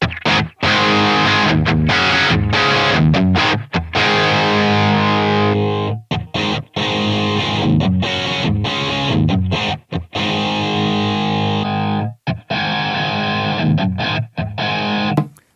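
Heavily distorted electric guitar through a Line 6 Helix amp modeler with dual cab and no delay, playing dense chords and riffs, loud and continuous with brief stops between phrases, dry with no echo trailing off.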